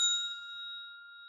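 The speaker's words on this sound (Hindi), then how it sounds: "मैंने दरवाजे की घंटी बजा दी है" A doorbell gives a single clear electronic ding that rings on as a steady, sustained tone, moderately loud and alone.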